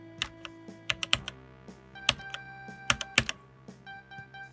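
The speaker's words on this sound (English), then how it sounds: "And this is the Romer G on the G810." Keys struck on a Logitech G810 mechanical keyboard with Romer-G switches, loud close clacks in an uneven rhythm with a slight ringing reverb after each stroke, alone over a low hum.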